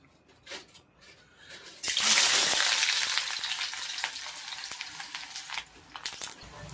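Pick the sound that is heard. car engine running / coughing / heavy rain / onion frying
onion frying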